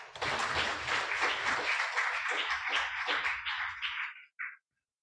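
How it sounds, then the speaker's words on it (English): An audience claps to welcome a speaker at a conference closing session, a full burst of applause that thins out and stops, with one last lone clap at the end. "Please welcome her with a big round of applause"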